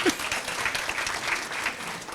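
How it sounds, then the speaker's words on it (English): Applause from an audience at a housing organization's award ceremony, brisk close clapping from a modest crowd that stays steady throughout, with no speech over it. "No, give Tommy a round of applause."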